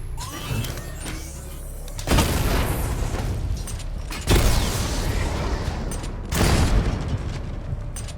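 Loud booming blasts from targets destroyed by weapon fire in Batman: Arkham Knight, three heavy explosions at regular intervals over a steady rumbling mechanical din.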